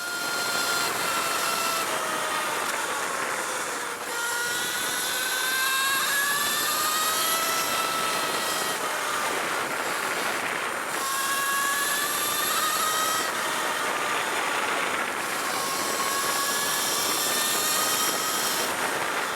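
Alta Redshift SM39 electric motorcycle at full throttle on a mountain road, around 70 mph: a loud, continuous high-pitched electric motor whine that rises and falls in sweeping pitch glides over heavy wind roar, with no talking.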